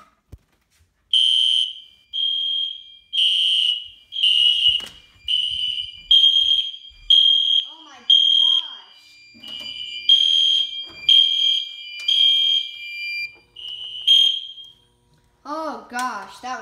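A fire alarm system under test sounds a loud repeating electronic horn in regular pulsed bursts, close and dominant, with brief voices and small noises in the gaps between blasts.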